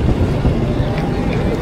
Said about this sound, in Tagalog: parang lakas ng hangin ngayon